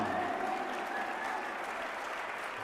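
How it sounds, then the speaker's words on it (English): Crowd applauding team players as they come out to center court at a North American table tennis team championship final, dense continuous clapping filling the space, with a public-address voice fading under it at the start. "Give a round of applause for"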